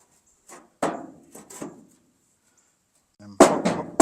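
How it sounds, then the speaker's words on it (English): Claw hammer prying and knocking against wood in the bed of a Ford F600 pickup during repair, giving a few sharp, close impacts with creaking wood and a longer cluster of strikes near the end. "I can put my claw hammer here and pry out on it."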